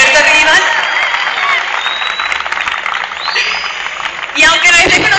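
Audience applause and cheering for stylist Gilberto Rivas fill an evening event, a dense, steady wash of clapping with whoops, swelling again near the end.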